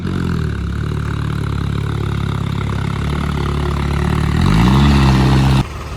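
Loud, steady low diesel tractor engine idling nearby, with a brief rise in revs near the end before it cuts lower.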